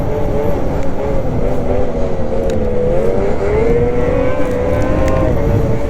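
A Lynx 600R snowmobile's engine drones steadily while riding over snow, loud and close, its pitch wavering slightly as the throttle shifts, over constant track and wind noise.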